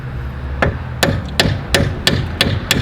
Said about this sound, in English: I'm gonna hammer on the nut here